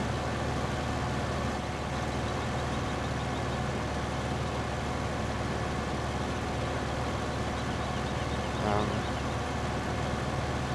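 Tractor engine droning steadily in a farming simulation game, a low continuous rumble that holds even and unbroken throughout with no talk over it.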